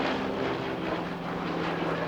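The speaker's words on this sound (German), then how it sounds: "Einen schnellen Überflug jetzt von der C-47, der militärischen Variante von der DC-3." A Douglas C-47 Skytrain, the military DC-3, makes a low pass with its Pratt & Whitney radial engines, a loud, dense, steady roar filling the whole clip without voices.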